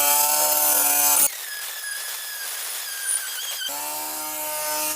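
A Parkside PFBS 12 C7 cordless angle grinder runs at full speed and cuts a zinc-plated screw of about 4.5 mm. A loud, steady whine drops into a rougher grinding tone for a few seconds while the disc bites, then the free-running whine returns.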